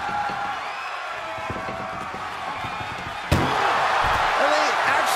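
A heavy slam rings out midway as a wrestler is thrown into the back of an ambulance during an ambulance match in a wrestling video game, while a commentator talks and crowd noise carries on underneath.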